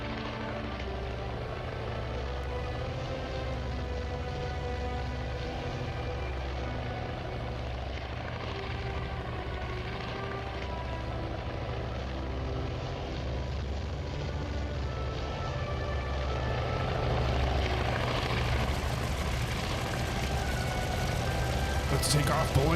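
Aircraft engines rumble during a carrier takeoff in the naval strategy game Task Force Admiral. The deep, steady drone stays constant and swells slightly toward the end.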